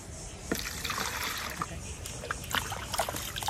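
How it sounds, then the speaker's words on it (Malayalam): Water is poured into a container to dilute a half cup of plant solution: a faint, steady trickle with small splashes, quiet and close, with no other sound over it. "10 ഇരട്ടി വെള്ളം നമ്മൾ ചേർക്കണം"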